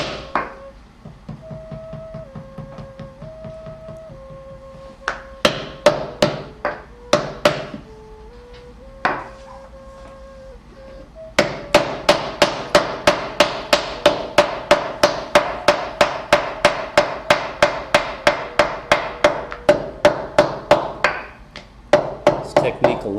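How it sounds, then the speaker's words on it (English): A wooden mallet pounds clay slabs against a hardwood table while teapot bottoms and tops are shaped, at first in scattered thuds and then in a fast, steady run of close, sharp blows, with a voice talking over the beating. "This technique allows her to make very even bottoms and tops, very even slabs, using the mallet against that hardwood table"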